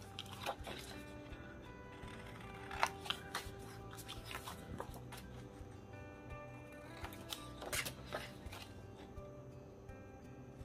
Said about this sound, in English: what I'm gonna do is cut out the little shape here